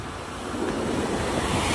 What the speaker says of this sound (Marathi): फक्त पाऊस चालू आहे